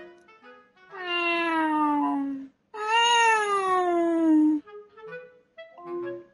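A cat meowing loudly and close, two long drawn-out wailing meows followed by shorter softer mews.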